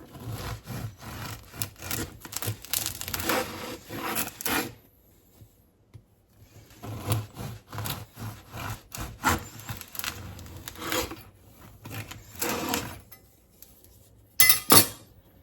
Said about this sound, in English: Here's the bread cooled off the next day. I'm gonna slice it and see how it is.